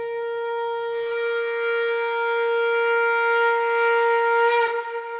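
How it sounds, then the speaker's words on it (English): A conch shell blown in one long, sustained, steady tone with a bright, brassy buzz, swelling slightly before cutting off near the end. "This was the sound of a shankh or a conch"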